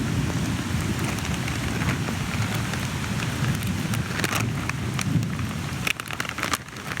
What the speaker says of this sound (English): because of how rainy it is